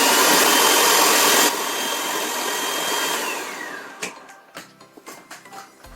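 A blender mixes powdered milk into homemade Nutella with a loud, close whir. The motor drops in level, then winds down with a falling pitch and gives way to a series of knocks and clatters.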